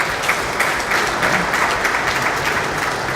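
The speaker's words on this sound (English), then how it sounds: "Please, a round of applause for this chairman." A sustained round of applause for a PDP chapter chairman at a swearing-in ceremony for new commissioners, many hands clapping at a steady, fairly loud level with no talking over it.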